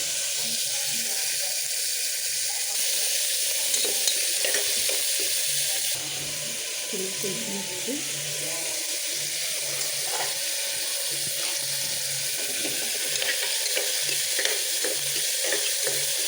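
Ingredients sauté in a pan for a drumstick leaf (moringa) and lentil dal, giving a steady soft sizzle and hiss with light stirring scrapes throughout, close and continuous, with no talk over it.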